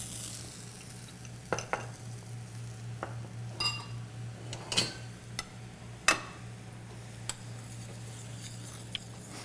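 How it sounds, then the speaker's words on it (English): Butter and port wine raisin sauce reduces in a pan with a steady quiet sizzle and bubbling, broken by occasional sharp clinks and scrapes of a utensil against the pan. "Once you get that butter in there, you want to reduce it down just a little bit more."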